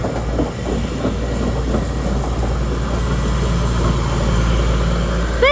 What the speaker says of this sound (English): Class 222 going to Nottingham.